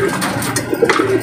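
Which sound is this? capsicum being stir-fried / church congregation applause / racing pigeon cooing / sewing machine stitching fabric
racing pigeon cooing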